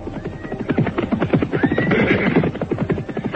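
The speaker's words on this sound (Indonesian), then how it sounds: "Aku mendengar derap kuda mendekat." Horses approach with fast, rhythmic hoofbeats that fill the scene, while loud neighing and whinnying rise over the galloping, close and prominent, in a radio drama set in the Wilwatikta kingdom.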